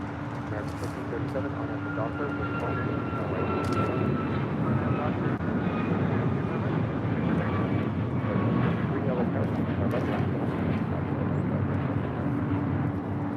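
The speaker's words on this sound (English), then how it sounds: "This is Alaska for 22, taking off to Tampa, Florida on a MAX 9." An Alaska Boeing 737 MAX 9 jet takes off at LAX, a steady, broad engine roar holding near constant loudness throughout, heard from a distance with a person talking over it.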